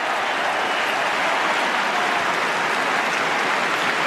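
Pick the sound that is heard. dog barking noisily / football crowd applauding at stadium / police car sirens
football crowd applauding at stadium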